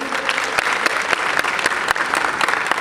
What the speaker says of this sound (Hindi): भरपूर तालियों से इस्तकबाल कीजिएगा